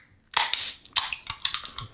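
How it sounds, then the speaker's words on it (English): Beer glasses clink together in a cheers: one bright glassy knock after a short silence, followed by a few lighter clinks and rattles, close and fairly quiet. "Go for a cheers."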